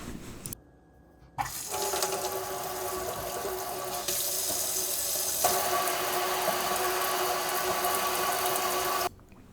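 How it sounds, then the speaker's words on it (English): A repaired sink faucet with a plastic nut runs water steadily into the basin. A soft click comes first, then a close, continuous splashing rush lasts about eight seconds before stopping abruptly. "Now just test the faucet out"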